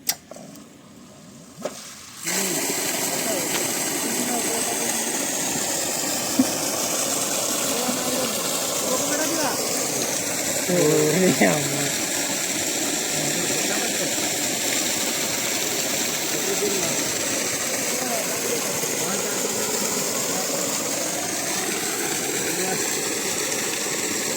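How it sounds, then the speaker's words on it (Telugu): A 3hp CRI open-well submersible pump motor runs in reverse rotation, giving a steady, even mechanical hum and rush that starts after a brief quiet moment and holds unchanged for about twenty seconds. "ఇక్కడ మోటార్ అయితే ఉల్టా నడుస్తుంది"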